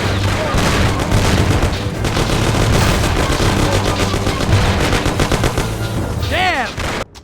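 Heavy gunfire in the 2002 game Mafia: The City of Lost Heaven, loud overlapping bursts and booms in a chaotic firefight, with shouting voices mixed in and a sudden cutoff near the end.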